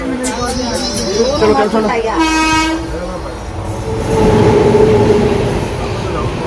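The Netravati Express passenger train runs along with a continuous rumble, and a tonal horn sounds briefly partway through. Voices and children's chatter are heard over the train noise.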